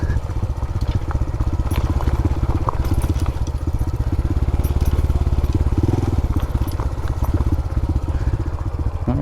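A Honda Trail 125 Hunter Cub motorcycle with its stock exhaust rides a bumpy trail, its engine thrumming in a steady, loud low pulse close to the mic, with clattering from the rough ground.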